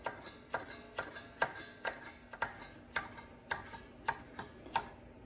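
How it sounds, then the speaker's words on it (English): Flat blade screwdriver spinning the parking brake star wheel adjuster inside the rear rotor of a 2010-2015 Lexus RX350 or RX450h, a steady series of sharp metallic ratcheting clicks, close and evenly spaced, without talk. "using a flat blade screwdriver, get in there to the star wheel and hook it up from the bottom and spin it up"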